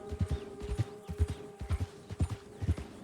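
Horse hooves clip-clop in a steady walking rhythm in Red Dead Redemption 2, loud and close, with a faint steady hum from the game beneath.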